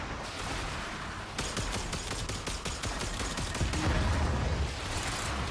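Warframe gunfire rattles in dense, rapid volleys over a constant noisy battle backdrop, with sustained streams of shots starting after a short lull and rolling on without pause.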